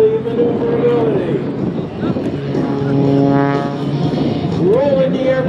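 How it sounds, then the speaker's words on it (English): An aerobatic propeller airplane rolls repeatedly at an airshow, its engine droning and shifting in pitch as it maneuvers, loud and fairly near, heard alongside an announcer's commentary. "Rolling the airplane around again."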